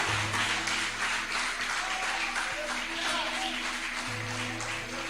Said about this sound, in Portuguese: Eu aplaudi a Jesus se eu fosse você